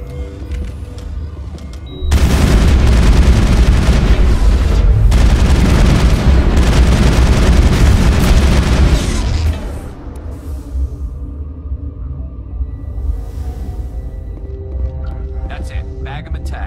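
Heavy gunfire and explosions burst out during a combat fight in the video game Mass Effect, a dense, loud barrage lasting several seconds before easing into scattered shots and rumble. Voices are heard amid the fighting.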